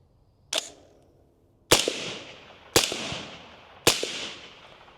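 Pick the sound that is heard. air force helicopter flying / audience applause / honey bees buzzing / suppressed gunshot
suppressed gunshot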